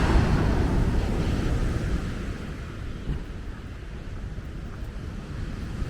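Stormy sea surf and strong wind roar near a seaside embankment, a loud continuous broadband wash of crashing waves with wind buffeting the microphone, easing slightly after the first couple of seconds.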